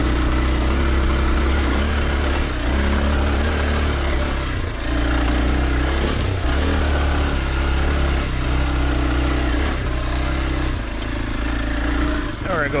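A Kawasaki KLX 230 dual-sport motorcycle engine runs steadily while being ridden through tight terrain in low gears, a loud, continuous buzzing drone close to the mic with wind rush over it.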